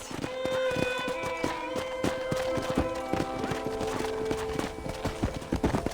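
Horse hooves in Red Dead Redemption clip-clop in a quick, steady galloping rhythm beneath a gentle game melody, continuing throughout.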